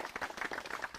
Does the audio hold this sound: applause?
yes